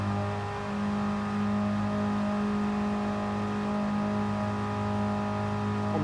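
Super Mighty Mini race car in a sim racing game, its engine held steady on the rev limiter in a loud, continuous buzzing drone with strong harmonics, no voices over it.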